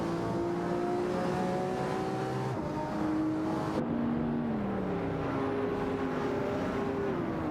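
Video game race with a Lamborghini Murcielago SV and a BMW 3.0 CSL Homage battling for position, engines droning and shifting pitch steadily as they rev and change gears, loud and continuous with no talk.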